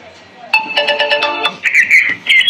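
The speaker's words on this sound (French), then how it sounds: "ça permet par exemple de sélectionner la sonnerie." A key finder plays a selectable ringtone, loud and close: a bright electronic melody of quick repeated beeping tones, pausing briefly, then continuing with higher warbling notes.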